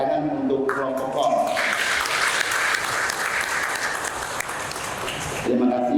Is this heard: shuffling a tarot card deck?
no